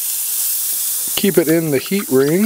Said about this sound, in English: we're going to put the burgers on here now, and we're going to cook them up